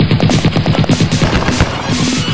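Rapid, loud bursts of automatic gunfire used as a sound effect in a rap track about the shooter game ShadowGun Dead Zone, a dense rhythmic rattle with booming hits across the whole clip.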